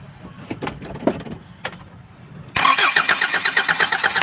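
A few clicks and a cranking attempt, then a Kia Bongo 3 van engine with a faulty fuel injector catches and starts, settling into a loud, rough, rhythmic idle close by.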